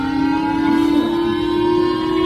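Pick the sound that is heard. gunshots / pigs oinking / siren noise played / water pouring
siren noise played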